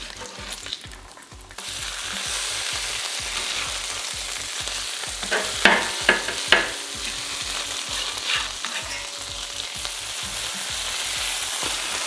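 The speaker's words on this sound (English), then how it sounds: "Let's give the old bacon a flip." Bacon frying in a pan gives a loud, steady, close sizzle that swells after the first couple of seconds, with a few sharp scrapes and clicks partway through as it is moved and flipped.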